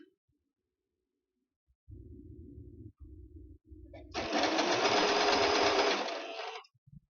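A sewing machine stitches a skirt waistband. It starts with a few short, low, chugging bursts, then the motor runs in one loud, fast, continuous whir for about two seconds before stopping.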